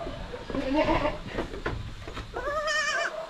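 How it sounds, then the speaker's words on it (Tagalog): Small goats bleating on a farm, several wavering, nasal cries in quick succession, close and fairly loud against a busy outdoor background. "mga maliit yung kambing natin siya, pero malalaki naman yung mga tainga nila"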